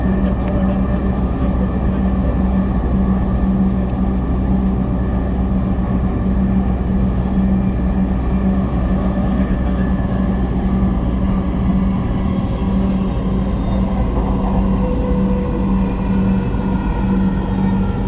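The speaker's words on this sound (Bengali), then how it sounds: "This train is bound for Uttara Uttar." A Dhaka metro train runs between stations toward Uttara, a loud, unbroken rumble with a steady low hum and rolling wheel noise throughout.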